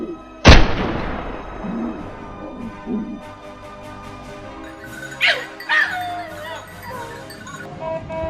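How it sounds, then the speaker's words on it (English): Hunting dogs barking and growling at a wild boar in the field, after a sharp loud rifle shot at the start; scattered barks and whimpers follow at moderate distance, with no clear talk. "the growls and barking of the dogs led me to another boar"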